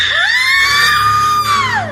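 A long, piercing scream rising and then falling away in a horror cartoon story, loud and close, with no other voices.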